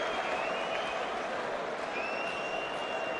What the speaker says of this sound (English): A round of applause for champion versus champion.